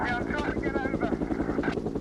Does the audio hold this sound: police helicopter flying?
yes